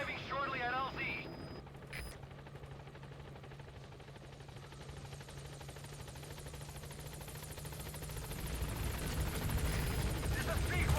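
Helicopter arriving at a landing zone in Metal Gear Solid V: The Phantom Pain, a steady rotor thrum and engine drone that builds louder over several seconds after a brief radio voice at the start.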